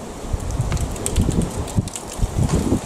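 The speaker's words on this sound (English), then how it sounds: "And it's a wee bit on the windy side." Wind blowing through a Belfast garden with a flowering hedge, a continuous gusty rush with rustling leaves that swells and eases, close to the microphone and without speech.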